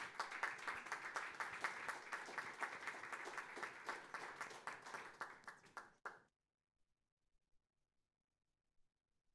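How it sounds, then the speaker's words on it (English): An audience at a teacher prize ceremony gives dense, steady applause that carries on for about six seconds and then stops abruptly, leaving near silence with a few faint stray claps. "one final round of applause for our founder, Sunny Barkey, and our top 10"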